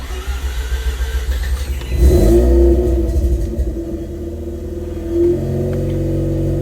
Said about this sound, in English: Here's a cold start from my RX-8.